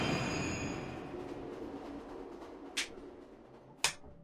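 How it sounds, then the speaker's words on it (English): Train in motion in the video game Remember the Flowers: a steady low rumble with faint high tonal whine, quiet and continuous, with two sharp metallic clicks near the end. "the train starts to slow down"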